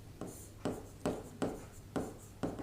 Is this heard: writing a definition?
yes